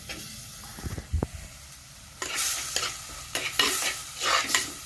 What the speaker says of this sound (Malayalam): ആ പൊടി ഒന്ന് ചൂടാകുമ്പോഴത്തേക്ക് നമുക്കൊന്നും കൂടി ഒന്ന് ഇളക്കി കൊടുക്കണം